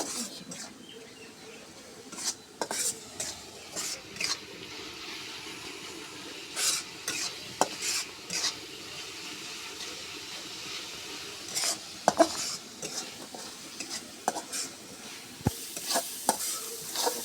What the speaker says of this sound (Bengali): মশলাটা সুন্দর করে কষে নিচ্ছি